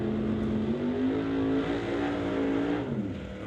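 Neon green Ford Mustang Roadster drag racing car at Mission Raceway during an NHRA divisional event, its engine holding a loud, steady rev that rises slightly mid-way and eases off near the end.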